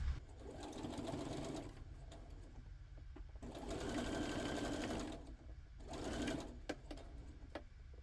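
A sewing machine stitches the ends of a rustic doily mug organizer in several short bursts of rapid mechanical clatter, separated by brief pauses, close and fairly quiet.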